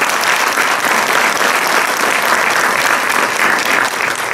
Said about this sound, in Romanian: să aplaudăm oameni de poveste!